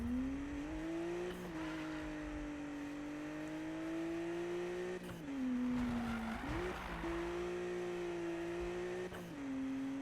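Car engine in the racing game Need for Speed 2016, a steady droning hum at close range that holds pitch with a few brief shifts and small revs, no talking.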